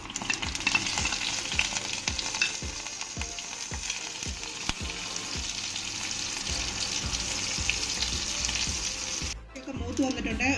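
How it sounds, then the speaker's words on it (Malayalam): Mustard seeds, green chillies and onion frying in hot coconut oil in a pan, a steady close sizzle with scattered sharp pops and crackles from the seeds throughout, briefly dipping near the end. "കടുക് താളിക്കാനായി ഒരു പാനിലേക്ക് കുറച്ച് വെളിച്ചെണ്ണ ചേർത്ത് കൊടുക്കാം."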